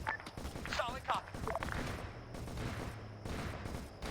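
Dense gunfire from the Arma military video game crackles in rapid bursts and volleys, with distant thuds mixed in and voices briefly heard over the shooting.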